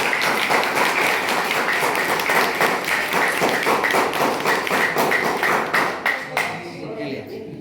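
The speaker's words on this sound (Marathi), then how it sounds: "स्वतःसाठी एकदा जोरदार टाळ्या वाहून द्या" A crowd claps steadily and loudly in rapid rhythmic bursts, the applause fading out near the end.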